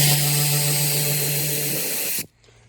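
A cordless ratchet whirs loudly and steadily while taking small 10 mm bolts off an Infiniti Q50 during heater hose work, then cuts off abruptly near the end.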